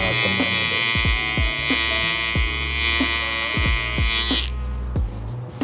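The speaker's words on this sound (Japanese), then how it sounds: "シェーバーでやっていくんですけど" A straight-type electric shaver buzzes steadily at a barber shop in Kamakura while trimming hair up to the base of the ear. The close, loud, continuous whine cuts off near the end.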